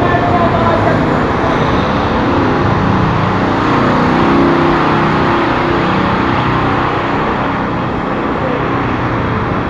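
A car being driven into a parking area, with a steady, loud engine and road noise that holds constant throughout and has no clear rise or fall.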